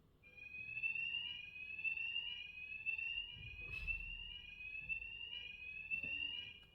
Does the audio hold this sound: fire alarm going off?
yes